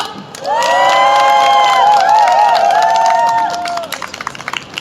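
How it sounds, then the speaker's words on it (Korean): Crowd at an outdoor poverty-eradication day rally breaks into loud cheering and whooping with applause, swelling quickly and holding for about three seconds before fading. "큰 박수와 함성으로 오늘 집회를 시작하도록 하겠습니다."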